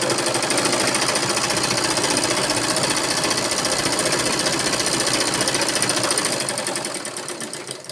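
A sewing machine stitches a blouse in a fast, continuous mechanical rattle, close and loud, slowing and fading slightly in the final second.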